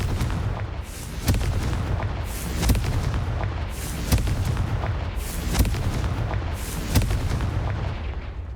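Confringo spell explosions in the video game Hogwarts Legacy go off as a series of loud, booming blasts roughly every second and a half over a dense, continuous rumble.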